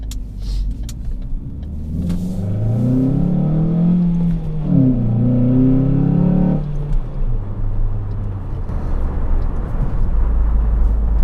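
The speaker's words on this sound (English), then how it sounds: "the absolutely insane growl that you get from this intake system" A Ford Focus engine with a K&N cold air intake growls and rises in pitch as it accelerates, a loud swelling roar that peaks then drops back to a steady rumble.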